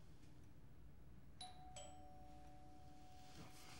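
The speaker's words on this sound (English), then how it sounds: "Doorbell." A doorbell rings with two clear electronic chimes, the tones lingering and fading against a quiet background.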